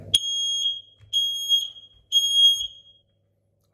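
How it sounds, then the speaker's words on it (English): A smoke alarm with its test button held in gives three loud, piercing beeps of about half a second each, evenly spaced, close by, with faint handling noise between them. "So as you can see here, you've got the smoke alarm"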